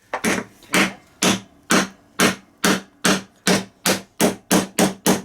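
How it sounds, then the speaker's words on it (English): A hammer strikes a bearing race held over a Denso alternator pulley bearing during a Jaguar alternator repair, about twelve sharp, loud metallic blows in a steady rhythm, close up with no talk. "you want to hammer on the outside using like a bearing race that fits nicely over the outside"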